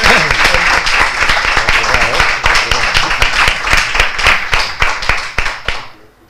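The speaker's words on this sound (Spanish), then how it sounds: "No quiero que esta presentación mía termine sin aplausos y que lo hagáis dedicándoselos a Juan Carlos." Audience applauding a novelist at a book launch for a crime novel, steady close clapping from a room of listeners that fades out near the end.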